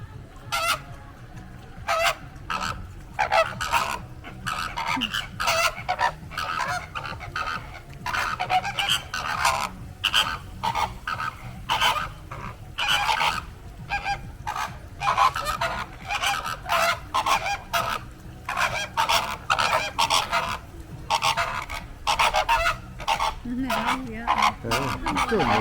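Pink flamingos at a resort animal area call in a loud, nearby flock, giving repeated honking bursts in an irregular, busy rhythm for over twenty-five seconds, with faint voices in the background.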